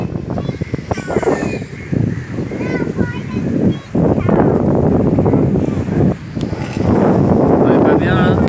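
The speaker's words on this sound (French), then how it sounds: "Il y a un petit vent." Wind gusts across a microphone on the coast of southern Phuket, a loud, buffeting rush that surges and drops in uneven waves, near and steady throughout.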